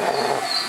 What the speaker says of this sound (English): Vinny growls at me for doing his nails.